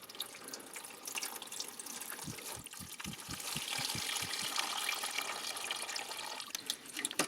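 Coolant draining from the cooling system of a 2008 Peugeot 307 with the 1.6 petrol TU5JP4 engine. A quick run of liquid drips and splashes builds into a steady, nearby trickling gush with no talking.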